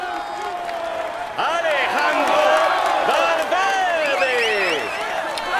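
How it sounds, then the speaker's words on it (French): A cycling race crowd applauds and cheers a stage winner, with dense clapping, whoops and shouts that swell midway, while an announcer speaks over the noise. "Applaudissez-le bien fort."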